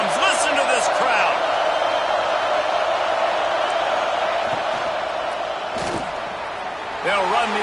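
A football stadium crowd at an Oregon game roars in a loud, sustained wall of cheering that barely dips throughout, with a commentator's voice riding over it near the start and end.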